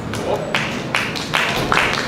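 Audience applause at an academic awards ceremony for cadets, a steady broadband patter of many hands with a few louder swells, close and continuous with no talk.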